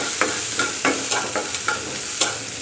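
Potatoes frying for aloo paratha filling sizzle steadily in a pan while a utensil scrapes and stirs in regular strokes, about seven clear scrapes over the continuous hiss.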